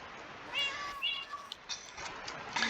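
A cat in the Minecraft-style video game Ecocraft lets out several faint, short meows in quick succession, quiet and slightly distant over a soft background hiss.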